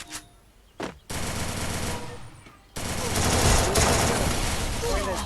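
Video game gunfire: a short early burst, then sustained rapid automatic fire that pauses briefly and resumes louder, with a voice talking under it.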